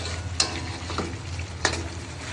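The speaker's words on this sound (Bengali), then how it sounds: "চিকেনটা আমি কিছুক্ষণ ভালোভাবে ভেজে নেব।" Chicken fries in a pan of homemade spiced masala with a constant close sizzle, and two or three quick scrapes of a spoon cut through as it is stirred.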